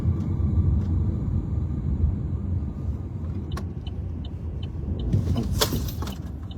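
Steady low engine rumble from a car being driven, continuous and fairly loud throughout, with a brief brighter swell of road and engine noise near the end.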